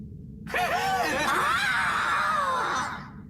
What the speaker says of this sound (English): the beta included screams from the Persona as they were about to get executed